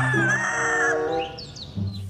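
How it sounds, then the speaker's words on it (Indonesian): A rooster crowing once in a short, loud drawn-out call, followed by a brief low clucking sound near the end. "Wow, ini ayam jantan"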